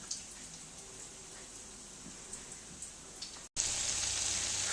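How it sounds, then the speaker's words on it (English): Italian potato croquettes frying in hot oil make a steady hiss with faint crackles and pops, then a brief cut and a sudden louder, brighter sizzle. "So we're going to fry them into our hot oil."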